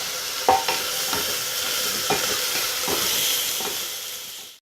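Broccoli and thinly sliced carrot sizzle and hiss in a pot for pulao as they are stirred, with a few scraping spoon strokes over a steady frying hiss before it cuts off abruptly.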